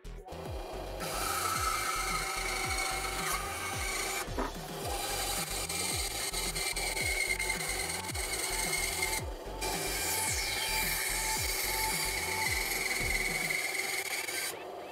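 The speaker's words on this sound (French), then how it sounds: "J'ai pris un chevron qui fait 72 mm d'épaisseur. Puis on va essayer de couper ça." A 72 mm thick wooden rafter is cut through, giving a continuous loud rasping, rhythmic sawing with regular strokes that pause briefly twice, close up and with no speech.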